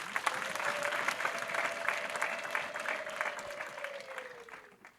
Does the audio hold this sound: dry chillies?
no